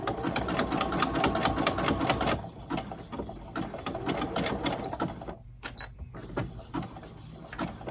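A home sewing machine zigzag stitches the corner of a doll blanket made from upcycled fabric, running in fast rattling bursts with brief pauses and clicks between them.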